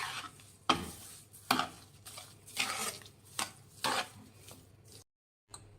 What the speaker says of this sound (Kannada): ಮಿಕ್ಸ್ ಮಾಡಿ.